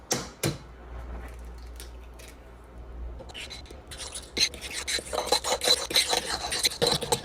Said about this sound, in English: We're gonna whisk this together. And we're gonna add 2 eggs.